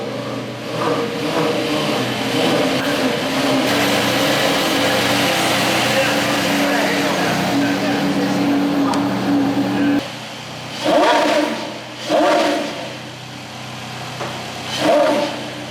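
A Porsche engine runs loud and close at a high, steady whine, then cuts back and gives several sharp revs that rise and fall in quick bursts.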